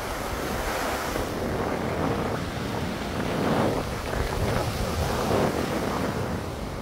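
Sea waves wash steadily over a stony shore, a continuous broad surf roar with gentle swells in loudness, wind buffeting the microphone throughout and no voices.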